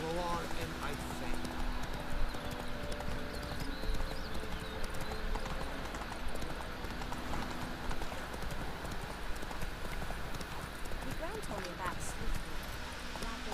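Horse in the video game The Witcher galloping, with steady rhythmic clip-clop hooves throughout under game ambience, while a person talks over it.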